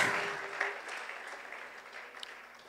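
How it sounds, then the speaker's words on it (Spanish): Applause from a church congregation during a service, a soft, diffuse patter of hands at moderate distance that slowly fades over a few seconds. "Démosle un aplauso al Señor, hermanos."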